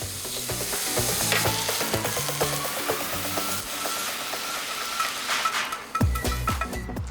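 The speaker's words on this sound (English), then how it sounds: "In a small frying pan, pour a little bit of oil and add in the shallots, garlic, and chili for the Thai rice balls." Shallots, garlic and chili frying in a little oil in a small frying pan, a bright steady sizzle with rhythmic scraping and tapping of a utensil, close up, with a louder clatter near the end and no speech.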